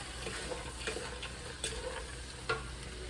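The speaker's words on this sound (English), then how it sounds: "I'm gonna stir it again. Make sure it's well distributed or mixed." Split pea soup being stirred in a pot: soft scraping and liquid swishing with a few sharper clinks of the utensil against the pot, close and moderately quiet, with no talking.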